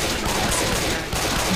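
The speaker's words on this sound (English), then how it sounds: "I'm just shooting where everyone else is shooting" Rapid gunfire from Left 4 Dead 2, a dense continuous burst of shots filling the short moment at close, loud level, with no voices.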